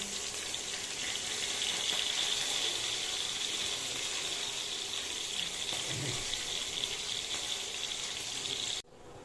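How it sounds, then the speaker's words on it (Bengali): Fish heads frying in hot oil for Bengali rohu posto, a steady loud sizzle and bubbling hiss throughout with a brief low knock near the end before it cuts off abruptly. "মাথাটা লাস্টের দিকে ভেজে নিচ্ছি।"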